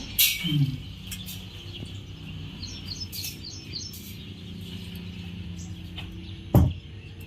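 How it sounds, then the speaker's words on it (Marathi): House sparrows chirp in quick, light bursts against a quiet outdoor background, with a couple of brief knocks and rustles. "चिमण्यांचा चिवचिवाट"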